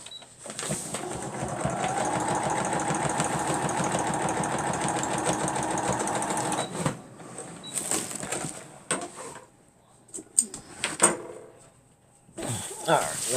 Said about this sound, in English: let's sew that right there down